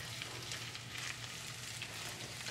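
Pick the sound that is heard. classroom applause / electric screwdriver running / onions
onions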